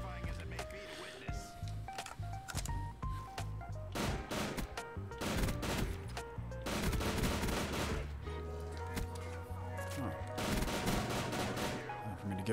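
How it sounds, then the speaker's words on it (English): Repeated three-round bursts from a gun in a Call of Duty: Black Ops 3 zombies custom map, sharp loud clusters of shots spread across several seconds over game music, with a voice talking at times. "It's a 3-round burst gun."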